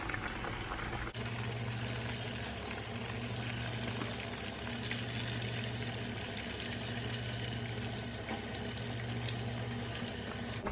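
Chinese shrimp balls frying in a pan, a steady close crackling sizzle that continues evenly throughout over a low background hum.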